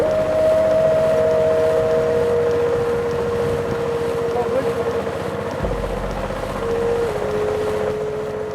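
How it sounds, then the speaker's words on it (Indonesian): A motorboat crossing Lake Lindu on the way from the Tomado village pier, its engine droning steadily and loudly throughout with a sustained tonal hum, wind rushing over the microphone and water noise beneath. "Perjalanan dengan motor lindu atau perahu menuju Makam Maradindo tidak kalah ekstrim"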